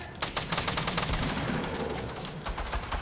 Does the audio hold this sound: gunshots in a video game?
yes